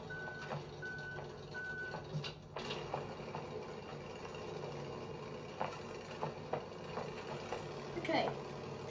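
A vehicle's reversing beeper in the video game Human Fall Flat, a few short even beeps near the start, fairly faint under ongoing talk and game noise.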